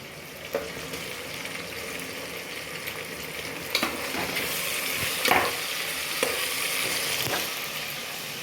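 Onions with green chilies sautéing for chicken biryani, a steady close sizzle with occasional scrapes and knocks of a spoon as the pan is stirred.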